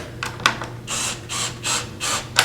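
Bar clamp ratcheting tight around a glued segmented wood ring for woodturning: a few quick clicks, then four steady bursts of grinding ratchet noise, close and fairly loud, with no talking.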